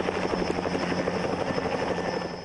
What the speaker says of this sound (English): will be flying three helicopters above the mall and shopping areas